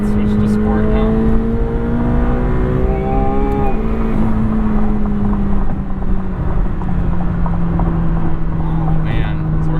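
A 2021 McLaren 720S engine accelerates hard in sport mode, loud and close, its pitch climbing steadily and then dropping briefly as it shifts before climbing again; a voice talks over the engine.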